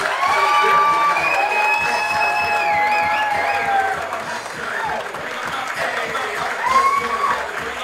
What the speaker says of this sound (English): A big round of applause for our bridesmaid Donna Zwinke, escorted by usher Gregory Weems.